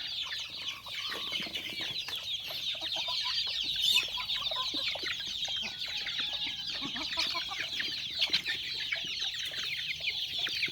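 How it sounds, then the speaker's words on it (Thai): Free-ranging native chickens cluck steadily outdoors in a garden amid dense high chirping and rustle, with scattered short calls across the whole stretch; no talking. "ไก่พื้นเมือง เลี้ยงลูกเก่งค่ะ"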